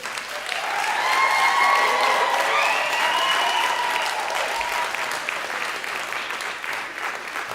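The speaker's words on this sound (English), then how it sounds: "give yourself a big round of applause" Graduates at a university graduation ceremony give themselves a big round of applause, a broad, sustained wash of clapping from a large crowd in a hall, swelling early and holding steady, with faint cheering voices above it.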